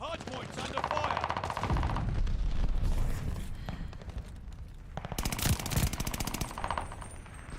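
Bursts of rapid automatic gunfire in the shooter game Call of Duty Vanguard, loud and close, two dense volleys separated by a short lull, with some scattered shots and game effects between.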